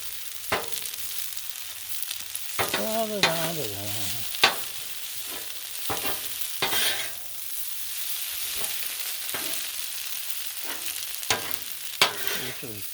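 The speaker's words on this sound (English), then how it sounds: "Give it a little stir. Break up this second batch of noodles." Turkey and noodles stir-frying on a Blackstone flat-top griddle, a constant sizzle punctuated by scraping spatula strokes and sharp metal taps, with a brief bit of speech early on.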